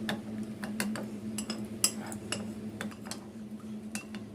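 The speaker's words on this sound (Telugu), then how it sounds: "ఇప్పుడు దీన్ని మంచిగా ఉండలు లేకుండా కలుపుకోవాలి, గడ్డలు కట్టద్దు, గడ్డలు లేకుండా మొత్తం కలిపేసుకోవాలి మంచిగా" Custard powder mixture being stirred in a bowl to break up lumps, with quick repeated clinks and taps of the spoon against the bowl over a steady low hum.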